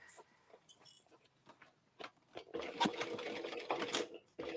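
A sewing machine stitching a bag, starting with short hesitant runs, then a steady fast whirring hum with a rapid needle rattle, close up and without talking.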